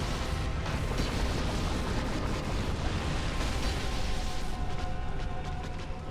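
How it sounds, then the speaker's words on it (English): Dense, sustained explosive roar in Dark Souls gameplay, loud and continuous across the whole stretch with a rumbling low end and no pauses. "Explosion."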